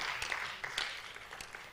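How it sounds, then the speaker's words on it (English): Audience applause at a communication association conference in Dar es Salaam as a speaker walks to the podium, a steady, fairly faint wash of many hands clapping in a hall. "A round of applause as he approaches the podium."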